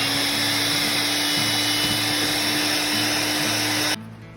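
An electric mixer whirs through flour, egg whites and egg yolks for a chiles rellenos batter, a loud, steady high whine that stops abruptly near the end.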